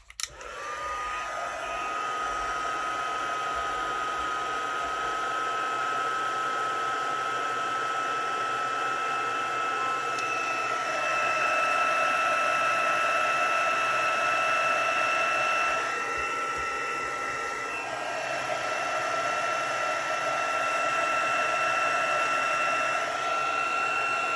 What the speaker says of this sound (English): we're going to use our heat tool again to heat emboss this